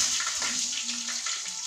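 Curry leaves dropped into hot oil with dried red chillies in a pan for chembu curry, giving a loud, continuous hissing sizzle that stays close and even.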